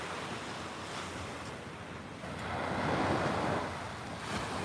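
Ocean surf rolls onto a Florida beach, a broad steady wash of waves swelling louder midway and easing back, mixed with wind rumble against the microphone and no voices.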